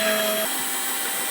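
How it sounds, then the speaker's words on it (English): A power drill whines as it backs screws out of acoustic diffusers mounted on a studio wall, a steady motor drone that drops in pitch partway through, close and loud. "Let's grab a drill and unscrew the diffusers."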